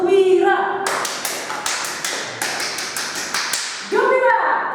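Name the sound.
audience doing the 'tepuk gembira' clapping routine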